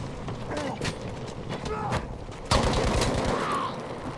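Rapid bursts of gunfire in Battlefield V Firestorm crackle in quick succession, loud and close, with sharper shots near the middle.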